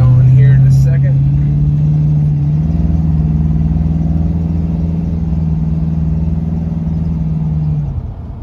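A 1936 Ford Coupe engine pulls smoothly under acceleration from inside the cabin, a steady low rumble that rises in pitch, holds, then eases off near the end, with an air conditioner blowing in the background.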